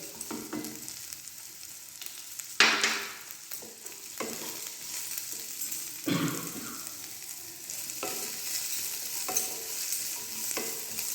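Chopped onion, ginger and green chilli fry and sizzle softly in a pan for a Kumbakonam kadappa. A spoon stirs and scrapes now and then, with one sharper clink early on.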